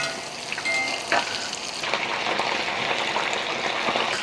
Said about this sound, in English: we will fry these wings at least for 10 minutes